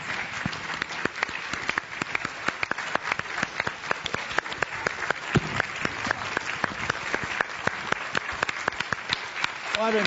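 Sustained applause from a conference audience at a caucus plenary session, dense rapid clapping filling the room for ten seconds, with a speaker's voice coming through over it.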